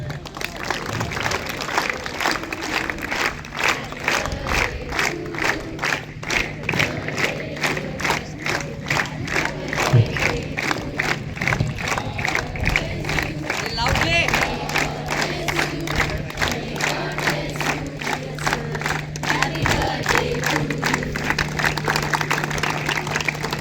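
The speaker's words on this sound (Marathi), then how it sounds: "आता सर्वांनी टाळ्या वाजवून सरांना विश करा." A crowd at a sports event claps in a fast, rhythmic unison beat for a birthday, with cheering and shouts mixed in, sustained and loud throughout.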